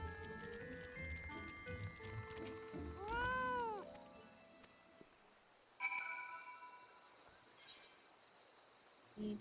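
In the Final Fantasy XIV video game, a cat lets out a clear, drawn-out meow amid tinkling game chimes and music, followed by brief bright jingles.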